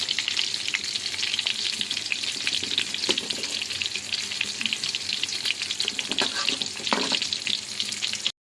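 Dense, crackling sizzle of kebabs frying in hot oil in a pan, steady and fairly loud, with a few faint scrapes and bubbling pops mixed in.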